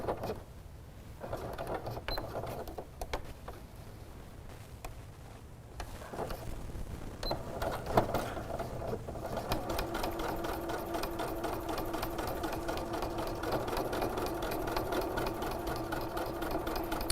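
A sewing machine stitches woven windowpane fabric in quiet, close bursts, first starting and stopping, then running in a steady continuous whir of needle and motor, with no talking.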